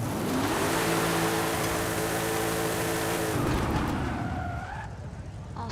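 A Toyota Supra in Forza Horizon 5 screams along in first gear, its engine holding a loud, steady high-revving drone with tire squeal, then the revs drop away as the car shifts and slides.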